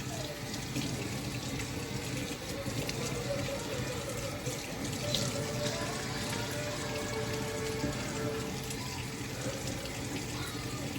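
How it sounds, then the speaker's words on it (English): Tap water runs steadily from a faucet as hair is wetted, a continuous splashing hiss that stays fairly even throughout without pauses. "I'm gonna just only wet up my hair just a little bit."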